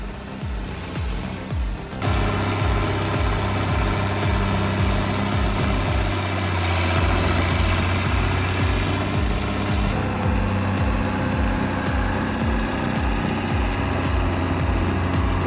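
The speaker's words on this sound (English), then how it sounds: "the 5280 tractor, your ultimate ally in stump pulling." A 5280 tractor engine pulling out a tree stump runs steadily with a deep, continuous mid-pitched drone, joined by cracking, splintering wood and rumbling strain throughout.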